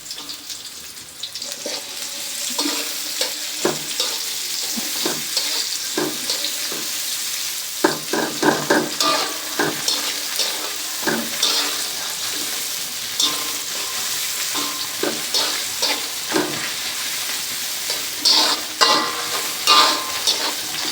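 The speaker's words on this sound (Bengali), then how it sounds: "বন্ধুরা, আমার পেঁয়াজ রসুন ভাজা হয়ে গেছে" Chopped onion and garlic frying in oil in a pan, a steady close sizzle broken by frequent scraping stir strokes throughout, with no talking.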